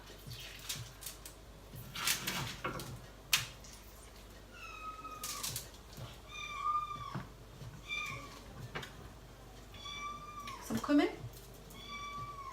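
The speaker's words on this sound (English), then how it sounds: "That's a cat." A cat meows repeatedly in a kitchen where a chicken and couscous meal is being prepared. There are about eight short, rising-then-falling meows, moderately near, spread between a person's talk and kitchen clatter.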